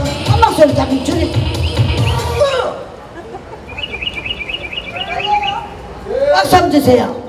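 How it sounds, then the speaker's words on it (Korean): Soft chirping pigeon and parrot calls repeat in a quick series over a hushed room during a magic show, with a crowd's chatter and clapping before and after. "이제 비둘기가요, 앵무새하고 이야기하고 있대요."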